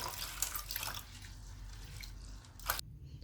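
Mixed polished lentils for dal being rinsed clean in water, a steady close splashing and trickling with faint drips, fading to near quiet at the end.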